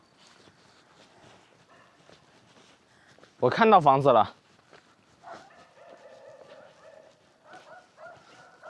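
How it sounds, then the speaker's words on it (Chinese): A dog near an isolated house on a mountain peak in China gives a short, loud burst of barking, clearly above quiet surroundings, while a person speaks before and after it. "就能听到狗吠的声音了"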